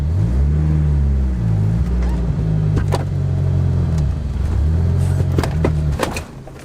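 A small 2.2-litre turbocharged car drives with a loud, close engine drone whose pitch rises and dips as it pulls and eases off. Scattered clicks and knocks sit over the steady engine note.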